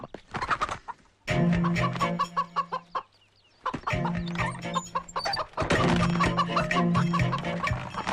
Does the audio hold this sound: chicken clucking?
yes